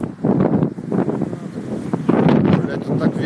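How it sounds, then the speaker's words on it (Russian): Strong wind outdoors on a street blasting the microphone in heavy, uneven gusts, loud and close, with people talking underneath. "тут так ветер"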